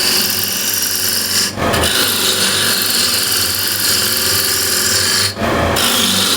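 Bone-dry wood being shaped into a ball on a lathe gives a loud, continuous rasping scrape of tool on spinning wood, broken by two brief pauses.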